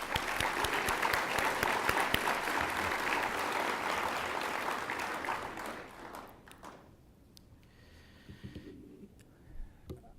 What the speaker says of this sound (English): So let's give a big round of applause to all of you.